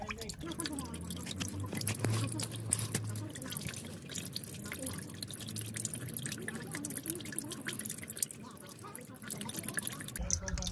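Oil drains steadily out of a Ford Transit van during a full service after the filter is undone, a soft continuous trickle and drip that runs close and fairly quiet throughout, with low background rumble and no talking.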